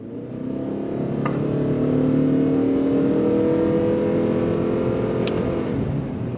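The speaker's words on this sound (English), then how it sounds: "we're gonna go back on throttle here. As soon as the light turns green," A 2022 Ford Maverick Hybrid pulls away from a green light, its engine droning steadily and rising slightly in pitch as it accelerates, heard from inside the cabin with no talking.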